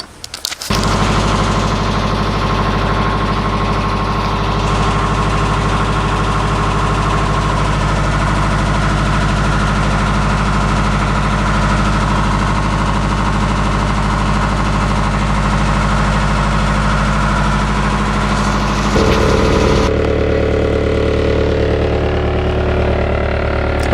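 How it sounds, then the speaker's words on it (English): A boat engine roars to life and settles into a loud, steady drone that carries on unbroken for about twenty seconds. Near the end the tone shifts lower as the engine slows. "we're going to get the engine started here."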